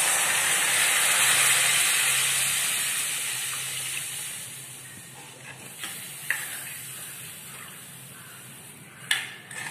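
Strained tamarind water poured into a hot pan of sambar, a broad hiss that swells at first and then slowly fades, with a few light clinks near the end.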